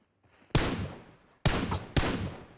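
Gunfire in the mobile shooter PUBG Mobile: three loud, sharp bursts of shots, each ringing out and decaying, the first after a brief quiet and two more close together near the end.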